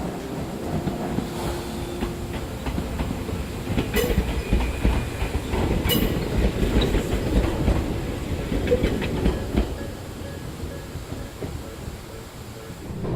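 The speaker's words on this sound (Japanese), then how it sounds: "僕たちが乗っているこの列車はもうすぐ大後駅に停車いたします" Interior of a moving Jōmō Electric Railway train in Gunma approaching Ōgo station, with a steady loud rumble and rhythmic clickety-clack of wheels over rail joints, a few sharp metallic clunks, and the noise easing slightly near the end.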